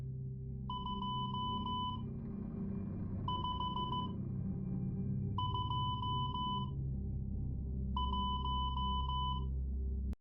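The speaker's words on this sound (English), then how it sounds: "I'm going to send it in Morse code." Morse code beeps sent as a message about an SCP number, short bursts of steady electronic tone in four grouped clusters, clear and evenly pitched over a low background hum.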